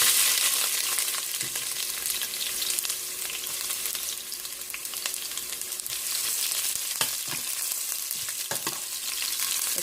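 Ginger sizzling steadily in hot oil for pork ribs adobo, a dense continuous hiss with occasional stirring scrapes, close up.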